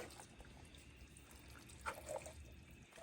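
Two cans of corn with their juice pour into a pot of white bean chicken chili, a faint wet glugging and trickle with a few soft splashes, quiet and close, with no voices.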